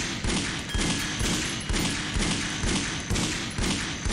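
Repeated heavy gunfire bursts thump out in rapid rhythmic succession in the video game Shadow Man Remastered, loud and close, roughly a dozen evenly spaced shots over several seconds.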